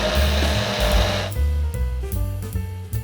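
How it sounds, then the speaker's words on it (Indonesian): A blender grinds turmeric, galangal, candlenut, garlic, shallots and red chilies with oil into a spice paste, its motor whirring loudly in bursts that stop and restart in a stuttering rhythm. "Ini aku mau blender sama minyak dan tinggal kita blender aja sampai halus."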